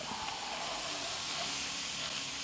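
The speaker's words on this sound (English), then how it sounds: "Now, I put some butter in the pan to brown my meat." Butter sizzling in a pan before browning ground beef, a steady close hiss with faint crackle, even and unbroken throughout, with no voices.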